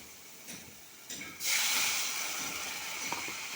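Water hits a hot pan of frying potatoes and soybean chunks, bursting into a loud, sustained hiss of steam that settles into a steady sizzle after a few faint clatters.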